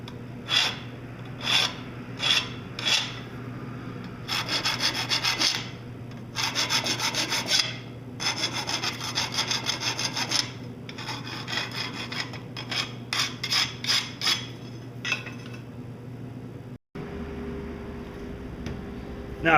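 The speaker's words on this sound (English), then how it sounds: "All I do on the bottom is just clean the burr off." A file rasps the burr off the bottom of a hand-forged steel dragon foot in repeated close scraping strokes, some short and rhythmic, others longer, over a low steady hum, followed by a brief pause and a change in background tone.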